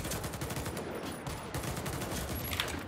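Rapid bursts of AK-103 rifle fire in the shooter game Warface, loud and dense, continuous overlapping shots with a muffled tone filling the whole stretch.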